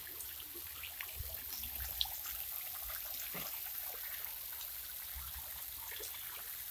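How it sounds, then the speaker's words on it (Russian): Water from a small fountain in a botanical garden splashes and trickles steadily at a low, even level, with no voices over it. "А вот фонтанчик другого ракурса."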